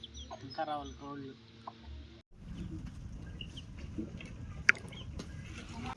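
Chickens cluck and a rooster calls at a family home, heard after a few seconds of talk, against steady background noise with one sharp louder call.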